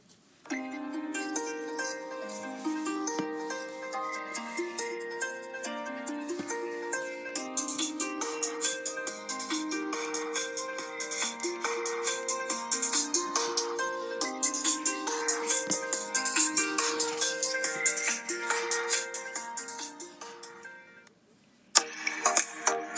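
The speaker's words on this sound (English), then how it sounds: "We're gonna go through all the ringtones for incoming call." FreedomPop phone incoming-call ringtones playing one after another, bright repeating melodic tones in quick patterns, loud and continuous with a short gap near the end before another tone starts.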